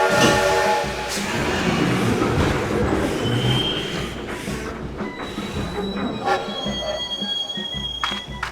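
A Lionel model train locomotive in Central Pacific style pulls away with rumbling wheels, clicking rail joints and some metallic squeals, loud and close throughout.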